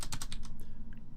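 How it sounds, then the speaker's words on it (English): Numbers are keyed in on a computer keyboard: a quick, even run of about a dozen close, crisp key clicks, with a couple of softer taps toward the end. "Now I'm just going to have to type this in."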